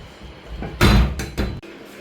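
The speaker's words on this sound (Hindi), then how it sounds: "दरवाजा बंद करोगे" A door in a home swings shut with a loud thud, followed by a second, softer knock, all close by with faint room noise around it.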